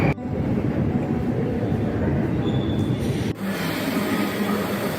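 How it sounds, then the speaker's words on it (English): A new St. Petersburg subway train rumbles along steadily with a loud, continuous roar and rattle, a brief dip partway through before the noise resumes. "I wanted to show you the new subway trains they have in St. Petersburg."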